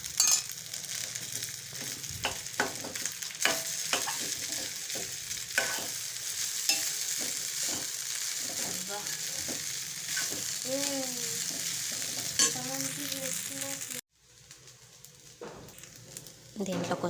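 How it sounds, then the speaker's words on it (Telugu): Rice is stirred and fried in a pan with a steady sizzle and scraping spoon strokes. A voice talks over the cooking now and then, and the sizzle drops away abruptly near the end. "దీంట్లోనే రైస్ వేసేసి కలిపిస్తాను. ఫ్రైడ్ రైస్ లాగా అవుతుంది"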